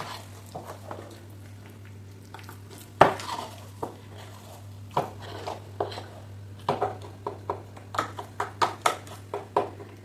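A spoon stirs poppy seeds in a bowl, producing irregular clinks and scrapes that grow busier and louder toward the end, with one sharp knock early on, over a steady low hum and no talking.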